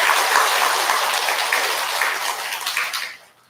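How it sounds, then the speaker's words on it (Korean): A congregation at a first-day-of-the-month Buddhist prayer service in a temple gives a big round of applause for the head monk; the thick clapping starts strong, then thins and dies away to near silence at the end. "우리 주지 스님을 위해서 큰 박수 한번 부탁드릴게요"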